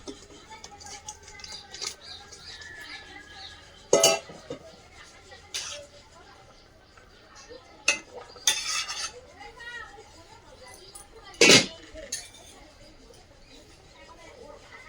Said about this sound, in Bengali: মাছগুলো দিয়ে দেবো